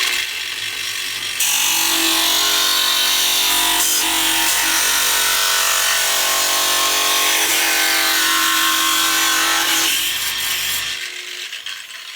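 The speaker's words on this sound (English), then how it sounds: "I'm going to take our grinder, again, use the block of wood as our guide." An angle grinder cuts through a stainless steel Schluter tile edge profile, guided along a block of wood, giving a loud sustained whine and grinding for about ten seconds before spinning down, with no talking.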